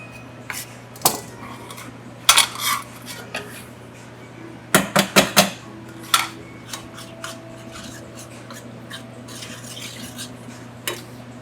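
A kitchen knife coarsely chops olives on a board in irregular bursts of knocks and clicks, some single and some quick clusters, close and fairly loud over a low steady hum; no one speaks.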